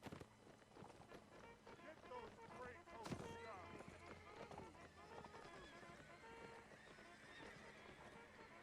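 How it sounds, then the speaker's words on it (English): A dense rumble of many galloping hooves mixed with horse whinnies and battle noise, continuous and busy throughout, with voices under it, from a cavalry charge in a Mount & Blade North & South mod line battle. "lots of horses"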